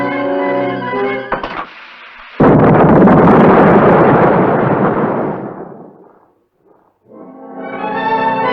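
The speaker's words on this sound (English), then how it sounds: "The last thing I remember hearing was the explosion." Large blasting explosion set off by a lit fuse in an old Western setting: after brief speech, a sudden loud boom erupts and rumbles for several seconds before fading to silence, then a voice resumes.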